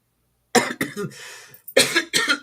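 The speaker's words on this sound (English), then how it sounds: "Why am I coughing?" Several harsh coughs from one person up close, a cluster of two or three, a short pause, then two more.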